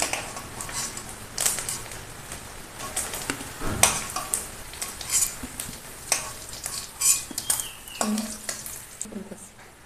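Fish roe frying in oil sizzles and crackles continuously while a utensil scrapes and stirs in uneven bursts, close by, with no talk.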